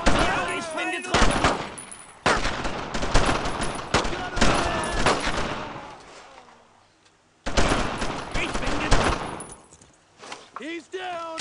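Sustained bursts of rifle and machine-gun fire in a World War II squad shooter, Brothers in Arms: Road to Hill 30, loud and close with dense overlapping shots and a brief lull before another volley; shouted voices surface between bursts.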